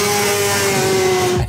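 A 1990s Honda street-legal race bike in traffic holds a high, steady engine whine at close range, loud and sustained, breaking off sharply near the end.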